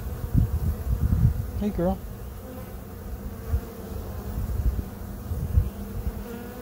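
Bees buzz around a backyard hive in a steady, close drone. Muffled handling noises and a brief spoken greeting sit over the hum.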